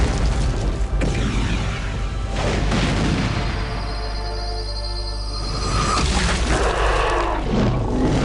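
A loud explosion in the video game Dungeon Siege 3 gives a dense, sustained rumbling blast that fills the whole stretch with roaring noise and no quiet gaps.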